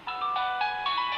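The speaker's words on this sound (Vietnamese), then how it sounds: "Đây là cái nhạc chuông của nó các bạn nhé." A Nokia N80 phone plays its ringtone at maximum volume through its loudspeaker, a bright repeating electronic melody of short tonal notes, steady and fairly loud with no talking.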